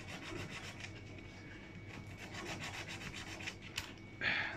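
Sandpaper rubs steadily against a laser-cut back panel for a model breakdown crane cab, in close, continuous back-and-forth strokes with no talking.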